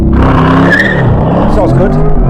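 A Corvette launches hard in manual mode, its engine roaring and tires squealing as it pulls away. The sound is loud and close, and people talk excitedly over the top of it.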